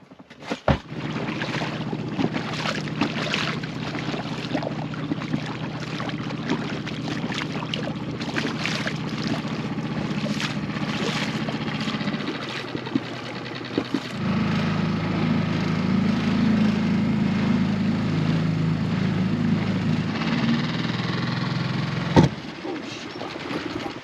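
A dinghy's outboard motor drones steadily and close by throughout, its pitch and loudness shifting partway through as the boat moves slowly among the Whitsunday Islands, with no talk over it.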